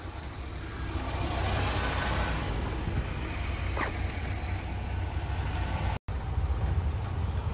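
A car engine idling after a cold start on a cold day, a steady low rumble with a faint higher whine, continuous and fairly close, broken by a brief dropout near the end.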